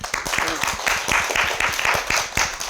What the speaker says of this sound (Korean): 우리 목사님들을 위해서 좀 박수 좀 쳐주세요.